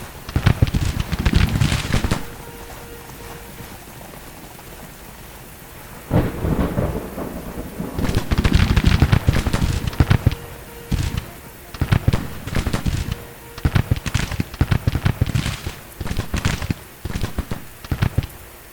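Heavy bursts of long-range rifle fire from a brigade in a Civil War strategy game crackle in dense volleys, falling quiet for a few seconds and then rolling back in repeated loud waves.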